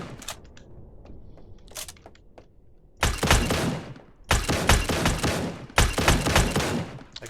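An AA-12 automatic shotgun in the shooter game Badlanders fires three loud, rapid bursts of blasts, each lasting about a second, separated by short pauses, after a few quieter clicks and shots.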